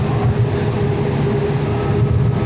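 A Valley Metro streetcar in Tempe rumbles steadily and loudly from close by, with a constant low mechanical drone and a faint tonal hum and no voices.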